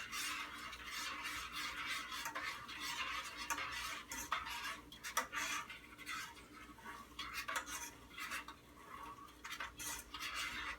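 Sugar being stirred into a cup of wine in a pot over low heat for wine gummies, a steady scraping and clinking of a spoon against the pot running continuously and close by, with no talking.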